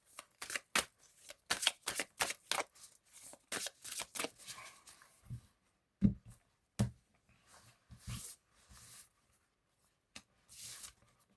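Tarot-style cards being shuffled and laid out for a reading: rapid riffling bursts followed by individual cards slapped and slid onto a table, close and fairly quiet, no talking.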